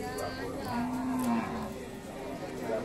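A cow, a large Indonesian cattle animal from Tapen in Bondowoso, gives one clear, steady moo lasting under a second, heard over background chatter and outdoor noise at a livestock sale.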